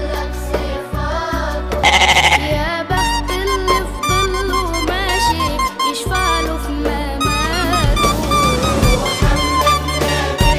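A Kurbani sacrificial goat bleats loudly and repeatedly, its wavering calls following one another over a dense, busy background.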